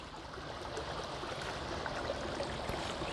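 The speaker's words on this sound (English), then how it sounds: "So this is the stream we're chasing today" A small, clear stream beside an abandoned Erie rail line flows with a steady, soft, continuous trickle and babble, close and unbroken, with faint background hum and no talking.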